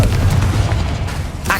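The Confringo fire spell detonates in Hogwarts Legacy, a loud booming explosion with a sustained low rumble filling the room, followed by a brief crackle at the end.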